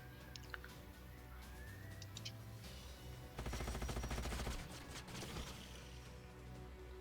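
Gunfire in the strategy game Age of Wonders: Planetfall: a dense, rapid burst of shots lasts about a second midway, over a steady game soundscape with faint chirps.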